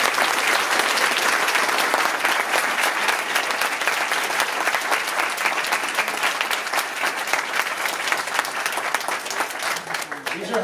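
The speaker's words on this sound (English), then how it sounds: "Give them a round of applause." A large crowd gives Morristown Beard high school students a long, dense, sustained round of applause at a rally, easing slightly toward the end.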